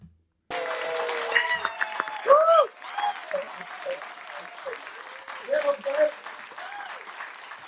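A big crowd at a live show in NYC claps and cheers throughout, with whoops and shouted voices rising over the steady applause.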